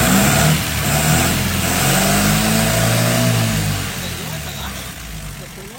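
A 1932 Peugeot 201 with an original Solex carburettor revs as the accelerator is worked, the loud, close engine holding a raised drone before dropping back toward idle. Voices speak over it.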